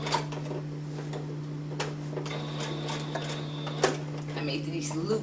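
A sewing machine stitches fabric in short, quiet runs of rapid ticking over a steady electrical hum, with a few clicks and pauses as the fabric is adjusted.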